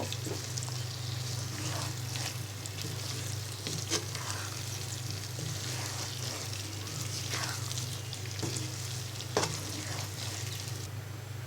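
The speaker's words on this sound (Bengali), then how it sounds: "এবার ভালো করে নেড়ে সব মশলার সাথে মিশিয়ে নিব" Olives are frying with spices in a wok while being stirred, making a quiet continuous sizzle with scattered soft scrapes and clicks over a low steady hum.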